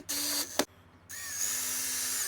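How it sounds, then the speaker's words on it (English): Cordless power drill driving screws into a door while a smart lock is installed, two short bursts of close, loud whirring separated by a brief pause and a sharp clunk, then steady quieter running to the end. "I'll go ahead and use my drill to get these put in."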